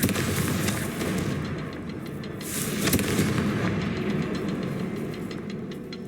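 Confringo fire spells blast repeatedly in the video game Hogwarts Legacy, making a dense, continuous barrage of booming, crackling explosions that stays loud throughout with little pause.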